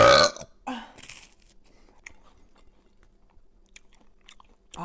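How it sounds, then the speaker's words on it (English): A big, loud burp sounds close up at the start, followed by a shorter second belch and then quiet, faint mouth and chewing noises. "was a big burp."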